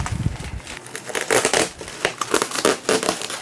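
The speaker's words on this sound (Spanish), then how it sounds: "vamos a separarlo del plástico" Plastic wrapping crinkles and rustles as it is pulled off a boxed scale model bus, a run of close, irregular crackling bursts with no voices.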